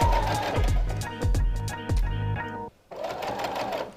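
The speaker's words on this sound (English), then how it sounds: "And I'm gonna sew to that dot." A sewing machine stitching blazer fabric in loud rapid bursts, its needle chattering in quick runs with short pauses between, stopping briefly near the end before starting again.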